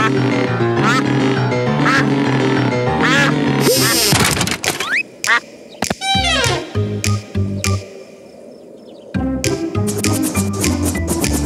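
A cartoon duck from a children's animated series quacks in short, squawky bursts, loud and close, amid bouncy background music and cartoon thunks and sound effects.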